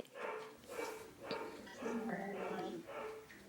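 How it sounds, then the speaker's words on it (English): A pet dog barks and yips in short bursts close by in a house, with a person talking over and between the barks. "Oh my God, the dog."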